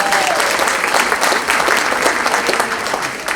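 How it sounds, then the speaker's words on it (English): Audience at a middle school winter band concert applauds steadily for the narrator, a dense, continuous wash of clapping that fades slightly at the end. "Give Ben a round of applause."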